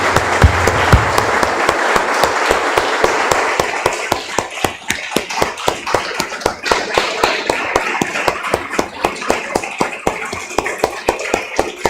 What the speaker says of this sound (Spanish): Damos un aplauso, hermanos.